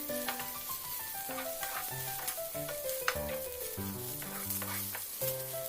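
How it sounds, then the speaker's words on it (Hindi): Chopped onions with salt sauté in oil, a soft steady sizzle with light stirring scrapes sitting beneath a louder melodic music track. "इसे भी हमें 2-3 मिनट के लिए सौते करके लेना है, लाइट ब्राउन कलर का होने तक।"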